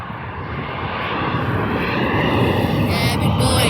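Airplane passing low overhead on the flight path near Birmingham airport, a loud, steady broadband engine roar that builds slightly over a few seconds with a faint whine on top.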